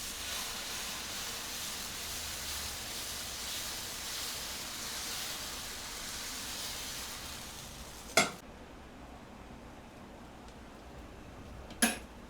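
A dosa sizzles on a hot iron pan in a steady, close, hissing wash that softens partway through, broken by two sharp clacks of a utensil on the pan.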